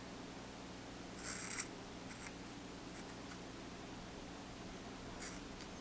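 Dull scissors snip through yarn, a few faint, brief crisp cuts spaced over several seconds against quiet room hiss, with no talking.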